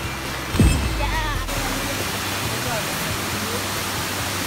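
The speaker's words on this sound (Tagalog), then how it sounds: "Nakikita niyo na yung magandang falls." A waterfall at a dam roars as a constant, dense rush of water, with a brief bump and a few faint voices early before the steady noise continues.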